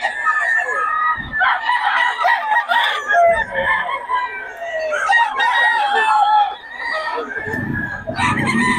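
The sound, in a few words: chickens, roosters crowing and clucking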